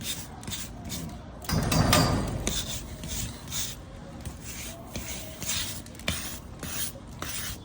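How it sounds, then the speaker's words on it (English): A small wire brush scrubs excess mortar off the face of an old brick while repointing a Victorian chimney stack in east London, giving irregular scratchy rasping strokes that come and go at close range. "the access mortar's coming off with a wire brush"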